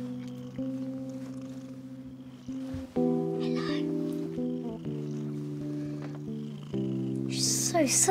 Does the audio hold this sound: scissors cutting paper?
no